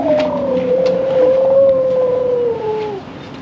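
A person imitates an elephant at the Dallas Zoo with a loud, sustained trumpeting wail. It wavers slightly in pitch for about three seconds, then fades as it ends.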